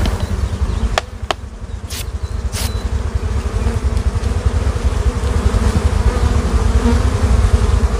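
Honeybees swarm around an open beehive in a dense, loud, continuous buzz close by, with a few brief clicks early on and no talking.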